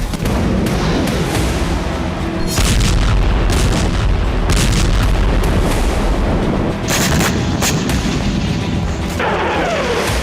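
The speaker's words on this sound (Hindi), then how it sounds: "पूर्वी तेहरान में मिसाइल अटैक किया गया" Missile attack explosions in eastern Tehran, heavy repeated booms and blasts rolling over a loud, dense, rumbling background, with several sharp impacts spread across the stretch.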